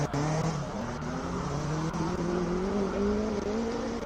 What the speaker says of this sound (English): John Cooper works Mini S going through the top speed 161. The Honda VTEC Type R.